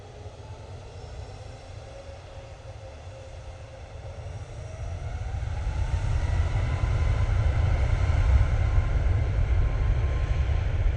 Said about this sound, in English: TUI 737 Max 8 going off to Larnaca.